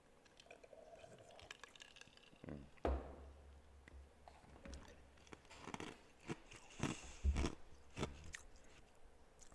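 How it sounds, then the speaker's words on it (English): Someone chewing ice, with sharp crunching bites that come in irregular bursts, close to the mic and louder toward the end, over a faint low background hum. "that's me chewing ice."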